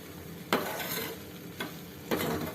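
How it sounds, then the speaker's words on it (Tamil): Black beans, a black-eyed bean sundal, being stirred in a hot pan: three distinct scraping strokes of a spoon over a steady background sizzle, close and clear, with no voices. "நல்லா கிளறி கொடுத்துடணும்."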